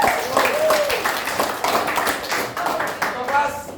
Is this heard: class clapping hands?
yes